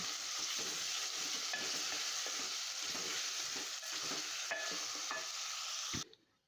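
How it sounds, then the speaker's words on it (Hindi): Chicken and tomatoes frying in a pan, a steady loud sizzle with scraping stirs throughout, cutting off abruptly near the end. "टमाटर को नरम होने तक हमने इसमें पकाना है"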